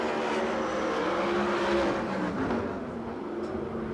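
Ford Focus midget race cars roar around the Perris oval in a steady, dense engine drone, several cars running close together with rising and falling pitch, loud and continuous with no talk.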